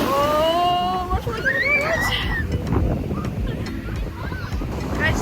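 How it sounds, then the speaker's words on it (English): Strong wind roaring across the microphone on a beach in India beside the ocean, a constant loud buffeting rush, with high whinny-like calls and faint voices mixed in. "I don't know if you can even hear me because it's so loud with the wind."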